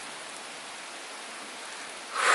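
Steady rain falls outside a home where a BMW M540i is parked, a constant hiss of drops that swells louder near the end, with no talking.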